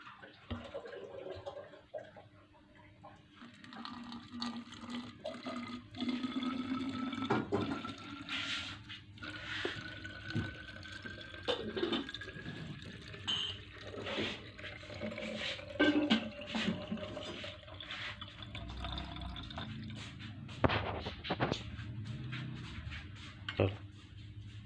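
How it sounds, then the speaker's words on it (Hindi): Homemade soy sauce is poured into a bottle: a long, uneven liquid trickle and gurgle with splashy surges, clinks and handling knocks, and a voice talking at times. "अब हम इसको बोतल में डाल लेते हैं।"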